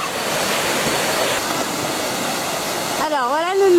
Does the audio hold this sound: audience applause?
no